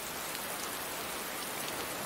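Heavy rain pours steadily onto surfaces outside a small shop, a dense, even hiss with no pauses and no voices.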